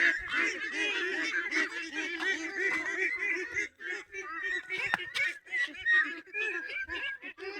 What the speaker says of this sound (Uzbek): Bir ikkita kattaroq g'oz olib keldik.